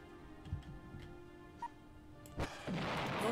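A sharp, heavy pulse cannon blast in the video game Battle Engine Aquila erupts partway through, followed by a roaring burst of sustained energy, with a faint tick and small pops earlier under a steady mechanical hum.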